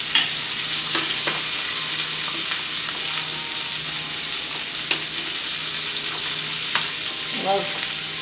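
Fish cooking in butter in a frying pan while being basted, a constant loud sizzle with a few sharp spoon scrapes and taps against the pan.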